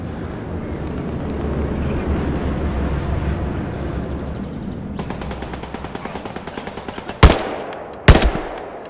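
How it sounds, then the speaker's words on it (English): Rifle and machine gun fire in the video game Hell Let Loose, with a low rumbling battlefield drone giving way to rapid automatic bursts and then two loud, sharp nearby rifle shots. "I'm getting shot from, like, down here somewhere?"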